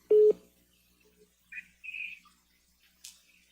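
Telephone keypad tones sound in a quiet room: one loud beep at the start, then several fainter scattered tones.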